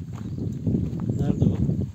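A horse moves along a mountain path in a terraced hillside area, with soft, uneven hoof clops close by, partly under people talking.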